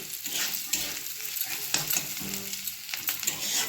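Onion, garlic and chilli sizzle and crackle in hot oil as a tempering for greens, a close, steady frying hiss with a few soft stirring knocks and no voices.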